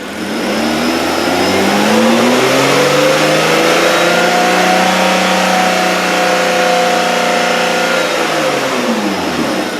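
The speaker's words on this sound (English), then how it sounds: "We'll hold the RPMs up, see what it does. I'm going to increase the RPMs." Hyundai Tucson engine revved and held at raised RPM, a loud sustained drone that climbs, stays steady for several seconds and then falls back, recorded close up with no talking.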